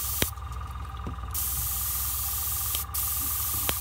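Airbrush spraying glaze medium, a steady close hiss of compressed air running continuously with brief clicks and short pauses of the trigger.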